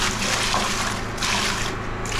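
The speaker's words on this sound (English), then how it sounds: "So we zap in a bit of water." Water poured into a bucket of bathroom floor mud mix, a steady broadband splashing and trickling that runs loud and close for the whole moment, with a generator-driven mixing drill setup nearby.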